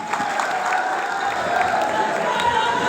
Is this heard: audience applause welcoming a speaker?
yes